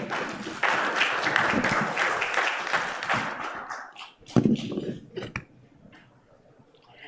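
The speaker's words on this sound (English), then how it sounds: "Can we have a round of applause for Mr." A workshop audience gives a round of applause, a dense burst of clapping for about four seconds that thins into a few scattered claps and brief noises, then quiet.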